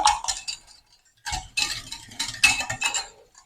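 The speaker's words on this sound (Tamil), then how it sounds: "உப்பு மிளகாய் தூளர்களோட முட்டையும் நல்லா சேரணும் அப்படியே நல்லா அடித்து கலந்து கொள்ளுவோம்" Eggs being beaten with salt and chili powder in a bowl: rapid bursts of utensil clinking and whisking against the bowl, close and fairly loud, pausing briefly before resuming in quick rhythmic strokes.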